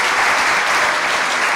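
Loud, dense audience applause for journalists who report on victims, a brief continuous burst of many hands clapping close and full.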